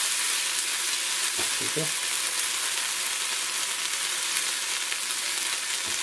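Green chillies sizzle steadily in hot oil in a pan for Indian dal tadka, a loud continuous frying hiss with a few soft clinks, and a voice says a brief word partway through.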